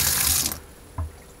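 Water running from a tap in a bus converted into a camper van, a close rushing splash that cuts off after about half a second, followed by a brief knock of the fittings.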